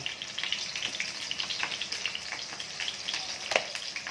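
Pieces frying in hot oil in a pan while cooking ginisang monggo: a steady close sizzle with crackling pops throughout, no talk.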